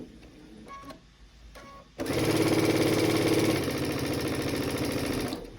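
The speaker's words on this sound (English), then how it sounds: "Just a couple stitches, just to make sure it's secure" A sewing machine stitches quilting fabric for a Daisy Dresden table topper. After a few quiet handling noises, the motor kicks in and runs loud and steady, close up, in a fast continuous whir until the end.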